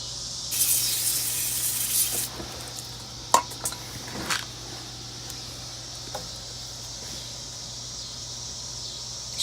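Aerosol spray hissing onto the body of a Chevrolet Avalanche in one long burst, then several short sharp taps and clicks against a quiet background.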